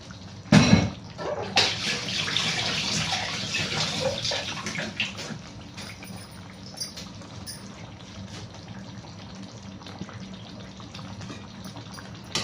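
Water poured into a mixer jar while making olive oil chicken curry masala, a steady splashing pour with a louder burst at the start that continues as a soft trickle through the clip.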